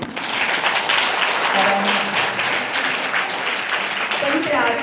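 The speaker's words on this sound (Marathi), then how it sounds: "आम्ही त्याचं स्वागत करूया टाळ्या वाजवून।" A church congregation at a Marathi sermon claps together in a steady, dense wash of applause, while a voice speaks briefly over the clapping.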